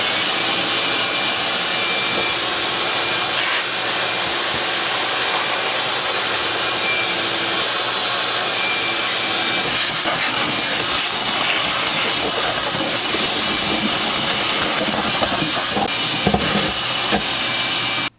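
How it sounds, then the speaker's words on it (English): An old bench grinder with a worn wire wheel runs continuously, giving a loud, steady whirring hiss with rough scratchy texture and a few brief clatters near the end. "The wire wheel needs to be changed because as I'm using it, it's throwing burrs and little wire nibs everywhere"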